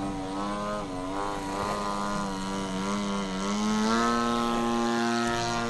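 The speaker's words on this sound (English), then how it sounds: "the wind's calmed down a little bit, so I thought I'd try hovering it a little lower" An Aeroworks 30cc Freestyle Extra 260 radio-controlled aerobatic plane hovers low in calm wind, its single gas engine and propeller holding a steady, buzzing drone that swells slightly as the throttle rises, heard alone at moderate distance.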